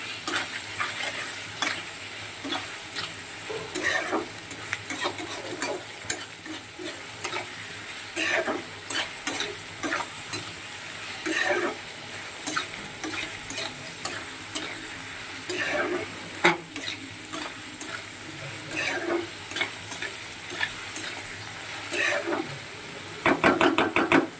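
Sliced onions sizzle steadily in hot spiced oil alongside a whole fried fish in a pan, with repeated stirring scrapes and utensil knocks over the constant frying hiss.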